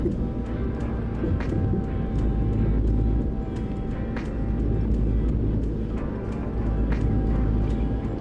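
Steady, droning truck engine noise from the American Truck Simulator game, a continuous low rumble at an even level throughout with no breaks.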